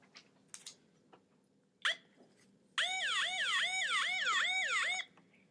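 A wailing siren cycles rapidly up and down for a couple of seconds, loud and close, after a few faint knocks.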